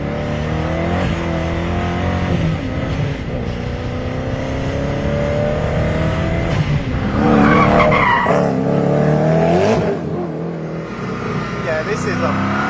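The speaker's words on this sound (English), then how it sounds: "there's so much noise and so much drama going on in this car" A Koenigsegg Agera supercar drives hard on a track, its engine roaring and revving through gear changes with tire squeal, loud inside the cabin while someone talks over it.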